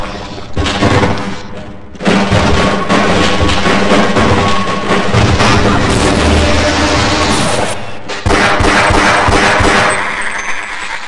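Dense, loud bursts of gunfire and booming impacts from the video game Half-Life, with a shotgun and crossbow in use, forming nearly continuous heavy blasts with a brief break midway.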